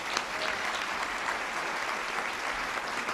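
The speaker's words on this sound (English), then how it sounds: "How about a round of applause for our speaker?" An audience at a National Press Club luncheon applauds a featured speaker with sustained, dense clapping that stays loud and steady throughout, with no voices standing out.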